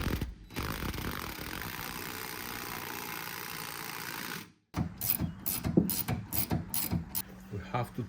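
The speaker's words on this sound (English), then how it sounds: "Okay, so now we have to tighten this, and we're taking a 5/8 wrench and a 5/8 socket." A socket ratchet and 5/8 wrench tighten a shock link nut, giving a run of quick, close clicking strokes in short bursts after a stretch of steady mechanical hum.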